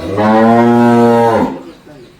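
A Jersey or Holstein Friesian dairy cow lets out one long, loud, close moo that fades into quiet farm ambience.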